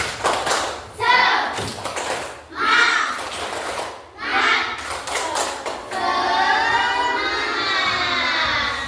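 Schoolchildren in a classroom perform the tepuk semangat clapping chant, loud rhythmic bursts of claps and voices in short phrases, then a longer sustained sung or chanted call.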